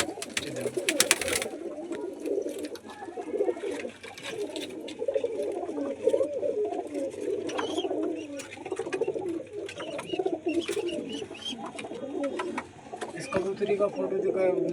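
A flock of Punjabi pigeons in a home loft setup coo steadily and continuously at close range, with soft wing flutters and someone talking at times.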